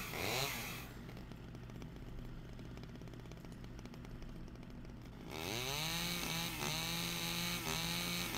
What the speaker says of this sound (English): I should have used the chainsaw a lot sooner.